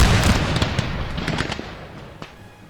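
A ragged musket volley from line infantry in Napoleon: Total War DarthMod, loud crackling shots packed together at the start and thinning into scattered reports as it fades.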